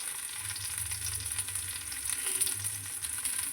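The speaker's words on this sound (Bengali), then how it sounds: "এবারে পটলটা ভাজবো," Pointed gourd (potol) frying in a little oil, a steady close sizzle with faint low rumbling underneath and no talking.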